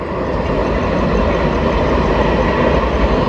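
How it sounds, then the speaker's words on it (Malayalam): A local train rolls past nearby in a continuous loud, low rumble and rattle with no distinct horn or voices. "ലോക്കൽ ട്രെയിൻ പോകുന്നതാ അപ്പുറത്തൂടെ."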